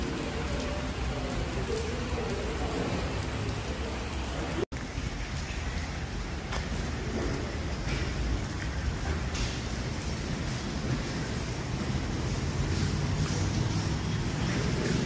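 Steady rain pours outdoors during a commemorative pilgrimage event at the Paardekraal Monument, a dense continuous hiss of drops on surfaces that stays loud and even throughout, with one brief dropout partway.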